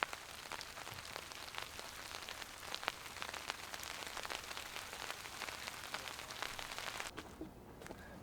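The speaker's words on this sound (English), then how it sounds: "It's starting to hail a little bit." Light hail falls outdoors at a campsite beside a cabin build, producing a dense, steady patter of small ticks and taps on surfaces that stays even and fairly close throughout.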